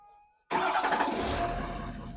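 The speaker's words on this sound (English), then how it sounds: "And I'm going to hit the remote start." A pickup truck engine started by remote start, silence giving way to a sudden crank and catch, then a steady close idle that settles down, with nobody speaking.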